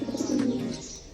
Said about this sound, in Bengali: এটা একটা ম্যাকপাই পায়রা বা বেলুন পায়রা বলে, বা পোটার পায়রাও বলা হয় এই পায়রাটাকে